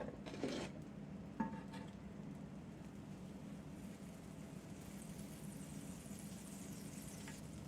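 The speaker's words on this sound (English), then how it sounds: "let's put some butter down on the griddle." Butter sizzling on a hot griddle before brownie French toast is cooked, a steady soft crackling hiss with a couple of brief clinks near the start, fairly quiet and without talk.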